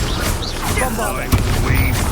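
A Bombarda blasting spell erupts in the Hogwarts Legacy video game, a loud, dense rumble of explosive noise with a sharp impact near the middle, mixed with a voice and battle effects.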